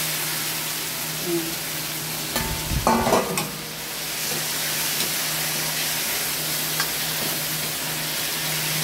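Pork marinated in soy sauce and calamansi sautés with garlic and onion, a steady soft sizzle running throughout with a brief burst of stirring and scraping near the middle.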